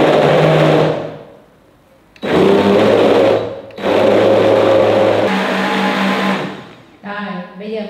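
A blender grinds coconut milk powder and mung beans in loud bursts. Two long runs are split by a short pause, then a brief final pulse.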